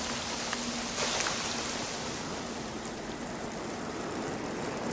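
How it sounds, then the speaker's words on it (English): Steady, dense rainfall hisses evenly and continuously, close and fairly loud, with no pauses or other sounds over it. "And this is how the first rain in our planet's history began."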